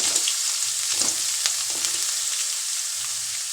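Curry leaves and chopped onions frying in a pan for chicken uppukari, a loud continuous sizzle with light stirring clatter, no voices.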